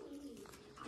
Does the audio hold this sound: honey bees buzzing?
no